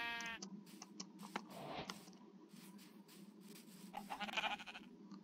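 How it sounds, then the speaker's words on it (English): Sheep in the Minecraft video game bleat faintly a few times over a soft clicking background, with no voices. "That's a black sheep now."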